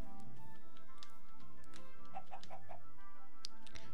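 A chicken in Minecraft gives a quick run of four short clucks in the middle, faint against a quiet game background with scattered clicks and a bright chirp near the end.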